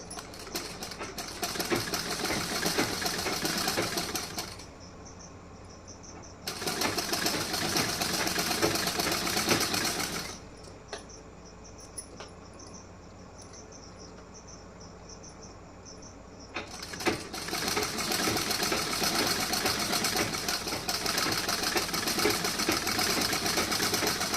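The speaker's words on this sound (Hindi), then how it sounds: "तो यहाँ पे मैं थोड़ा सा ही लेके स्टिचिंग करूँगी इस तरीके से" A sewing machine stitching a blouse runs in three loud bursts of rapid, steady whirring, separated by quieter pauses with a faint hum.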